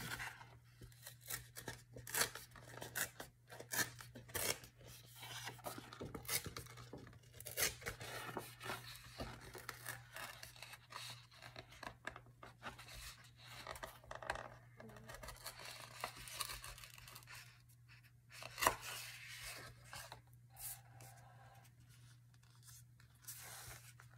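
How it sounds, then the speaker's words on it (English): Faux leather being torn by hand around the edges of a journal cover, a long run of faint, irregular ripping and crinkling bursts with brief pauses and one sharper tear near the end. "I'm just trying to tear around this a little bit."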